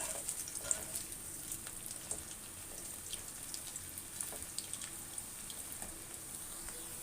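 Cauliflower 65 florets frying in hot oil as they are turned over, a steady close sizzle and crackle with scattered small pops and occasional light stirring clicks, no voices.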